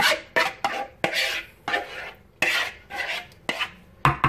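A utensil scrapes leftover cold process soap batter out of a container in a run of short, sharp rasping strokes and clinks, close and loud, with no voices.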